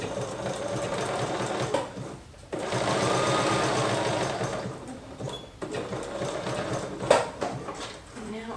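A sewing machine stitches shiny liquid lamé knit fabric for a shirt, running in a steady loud whir with brief pauses and restarts, close by and with no talk over it.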